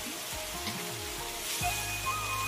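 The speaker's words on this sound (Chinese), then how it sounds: "继续炒匀" Crucian carp stir-fried in a wok with green Sichuan pepper oil, soy sauce and aged vinegar, giving a steady close sizzle with scraping stir strokes.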